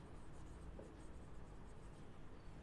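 Marker or chalk scratching across a classroom board as a teacher writes out a chemistry term, a faint, steady scraping held under a low background hum with no talk.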